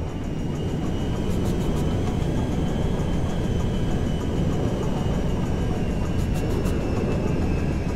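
A jet aircraft flying in GTA 5, a steady loud broadband engine roar that holds constant throughout with a faint high whine and no voices.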